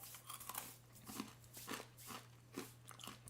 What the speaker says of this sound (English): That's a lot crunchier than I expected.